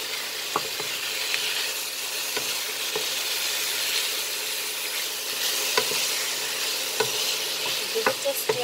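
Chicken stir-frying with baby corn and green chilies gives a steady, close hiss of sizzling, broken by sharp clicks and scrapes of a utensil stirring in the pan, with no talking.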